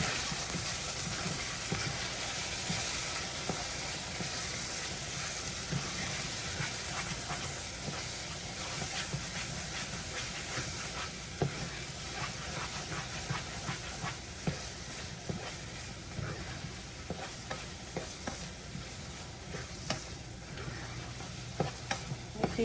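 Spanish rice with onion powder and garlic powder sizzles steadily in a pan while it is stirred, giving a constant hiss and fry with scraping clicks from the stirring, fairly quiet, with no talking.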